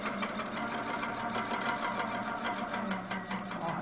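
A sewing machine stitches down the outer border of a quilt, running in a steady, rapid mechanical chatter at close range with no talking.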